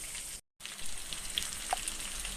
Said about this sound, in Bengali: দেখো আমার ভাজা ভাজা হয়ে গেছে